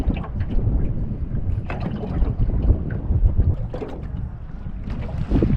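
Gusty wind buffets a small fishing boat on choppy water in rough weather, a dense low rumble of wind noise and hull slaps rising and falling without pause.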